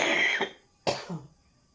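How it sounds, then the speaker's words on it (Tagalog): A woman suffering from a cold coughs twice, close and clear: a raspy first cough trailing off, then a sharp second one with a brief throaty tail, in an otherwise quiet room. "Yung ubo at yung sipon."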